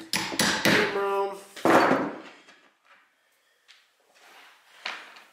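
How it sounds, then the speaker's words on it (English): Inch bolts being hammered into a homemade tube otter trap: a quick run of sharp metallic knocks, a ringing strike, then a pause and a few scattered lighter taps, close and loud. "If they don't want to go in, you can hammer them."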